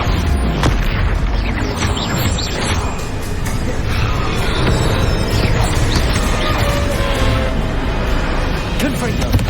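Bombarda blasting spell in the Hogwarts Legacy game: a loud, dense barrage of booming explosions and crashing impacts that barely lets up, with a voice speaking over the chaos.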